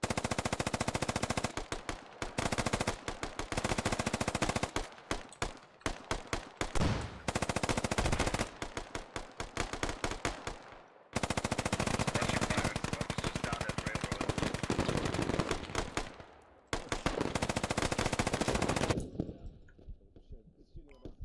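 Dense, sustained machine gun fire in the military shooter game Squad, loud and continuous with bursts and brief gaps, ending in a faint tail of distant shots.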